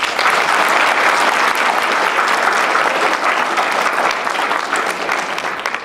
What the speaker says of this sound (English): Let's give another round of applause to Ms. Sue Crockett and also Ms. Sheila Swan